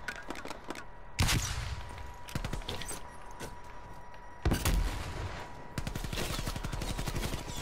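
Gunfire in Call of Duty: Black Ops Cold War: rapid bursts of automatic rifle fire with sharp, loud single shots between them, crackling and continuous across the stretch.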